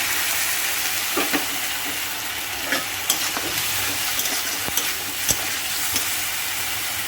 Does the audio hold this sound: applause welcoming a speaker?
no